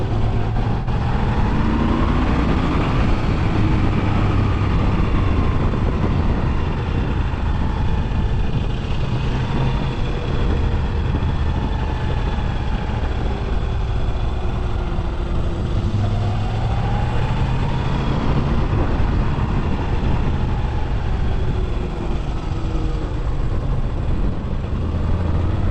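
A Moto Guzzi V7 Stone 850 motorcycle engine runs steadily nearby, a deep, continuous throb whose pitch rises and falls gently as the revs shift.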